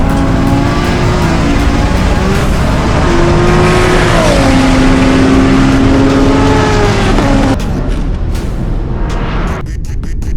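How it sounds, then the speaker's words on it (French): A BMW M3 and a Toyota Supra launch hard in a half-mile race, engines roaring loud and rising through the gears with a shifting whine, then cutting off abruptly toward the end; a voice speaks briefly. "La M3 part très vite suivie de la Supra."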